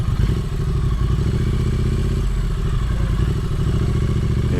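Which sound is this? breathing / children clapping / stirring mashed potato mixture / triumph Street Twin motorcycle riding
triumph Street Twin motorcycle riding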